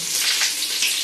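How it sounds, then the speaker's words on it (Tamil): Fenugreek seeds and crushed shallots frying in hot oil for a village-style fish curry, a loud, close, continuous crackling sizzle with no talk. "வெங்காயம் சின்ன வெங்காயம் தட்டி போட்டிருக்கேம்மா?"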